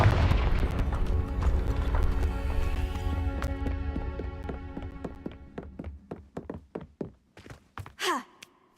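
A Confringo blasting curse cast in Hogwarts Legacy opens with a loud, rumbling explosive blast that slowly decays, followed by a series of sharp, spaced cracks and thuds and a final rising whoosh.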